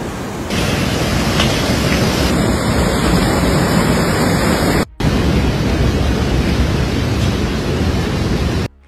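Loud, steady rushing of flash floodwater surging through St. Johnsbury, Vermont, a dense broadband roar that fills the whole stretch with only a momentary break near the middle; no talk.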